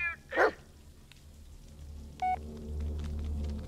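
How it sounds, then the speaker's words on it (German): One short dog bark rings out near the start in the video game Blair Witch (2019), followed by a brief electronic tone and low rumbling ambience. "Hund!"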